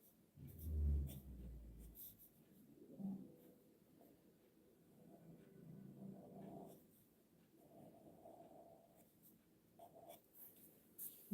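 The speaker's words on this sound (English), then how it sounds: "Now I'm going to go in with the marker." Marker tip drawing on paper for a cartoon face, faint scratchy strokes coming in short bursts, quiet and close, with no talking.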